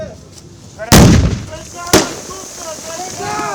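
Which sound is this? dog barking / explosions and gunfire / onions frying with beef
explosions and gunfire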